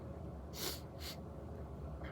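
Two short, quiet sniffles through a nose stuffed by a cold, close to the microphone, followed by a softer third breath near the end.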